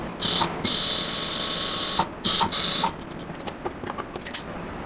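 Sewing machine stitching a salwar seam, a steady close whirring run that pauses briefly, restarts, then breaks into short stuttering bursts.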